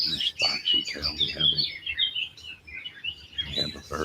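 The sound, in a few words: bird at a bird bath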